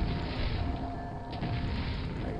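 Grenades going off in lava in the video game Quake, a sustained low rumbling boom with a dull, churning roar and no talk.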